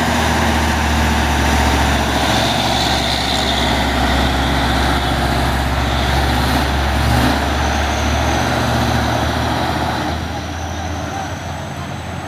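A Hino truck labors up the Bukit Kodok incline with a heavy, continuous engine drone layered with road noise, easing slightly near the end, while voices are faintly audible underneath.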